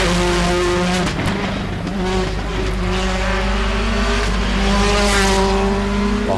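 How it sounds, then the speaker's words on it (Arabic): A rally car engine at the Cedars Rally in Lebanon roars loud and close, holding a steady high-pitched drone that swells and eases slightly throughout. "كمان اسمع سيارة عالي شوي صوتها"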